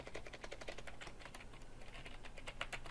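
Keystrokes on a computer keyboard, quick and irregular, as values are typed into CAD software. The clicks run steadily at moderate, close-up level with no voice.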